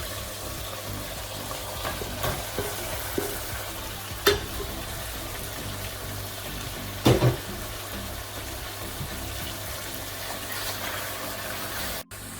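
Chicken sizzling in tikka masala gravy with yogurt, stirred in the pan by a spoon with a few louder scrapes, a steady close frying hiss running throughout with no talking.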